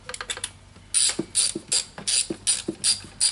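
A ratcheting torque wrench tightens intake manifold nuts on a 2007 Mini Cooper S R56 engine, clicking in quick, close bursts of rapid ratchet strokes with short pauses between them.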